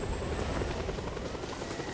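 Helicopter rotor and engine drone from the video game Just Cause 2, a steady loud whirring wash that fills the whole moment with no speech over it.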